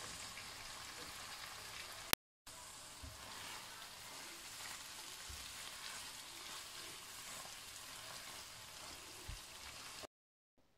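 Mixed vegetables for a vegetable spaghetti sizzle steadily in a hot pan while being stirred, with soft scraping knocks through a continuous hiss, broken by a short silent gap early on and cutting out near the end.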